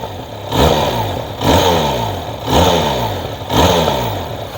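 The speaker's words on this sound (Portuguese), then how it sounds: "Vamos ver só aí o roncar da bicha, também é outra coisa que o barulho do motor," A 2023 Benelli TRK502 motorcycle engine is revved four times in a row, each blip rising sharply and falling back toward idle. The sound is close, loud and somewhat muffled, with no talking.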